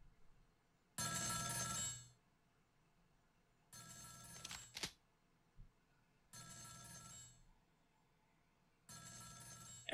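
A telephone rings in the video game Ghost Trick: Phantom Detective, sounding four separate bursts of ringing at even intervals with silence between them and a few faint clicks in the gaps.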